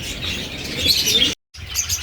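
Pigeons in a vacant lot behind a house, with bright chirps and a flurry of wing flaps close by, cut by a brief silent gap before the birds resume.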